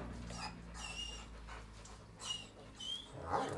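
A dog at play with a ball pants, whimpers and gives small yips, close by but quiet. Short breathy bursts come and go in an uneven rhythm.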